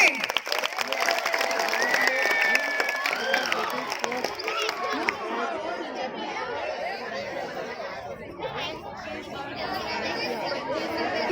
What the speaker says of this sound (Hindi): अच्छा, एक बार जोरदार तालियां अमन महेश गोस्वामी के लिए